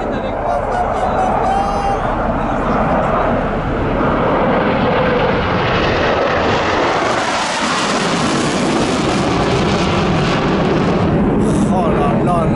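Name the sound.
jet aircraft flying low overhead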